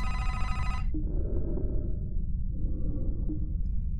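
A telephone rings in the horror game The Vermander Curse, a bright electronic trill that cuts off abruptly after about a second, followed by a low droning ambience with a faint click.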